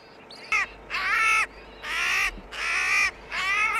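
Crows cawing beside an airport runway in Geneva, five loud harsh caws in a slow uneven series, close and clear over a low constant outdoor hum, no talk.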